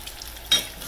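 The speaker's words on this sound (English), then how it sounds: "They're really frying up pretty." Oil sizzles with a steady crackle as apple fritters fry in a pan, swelling briefly louder partway through as something shifts; no voices.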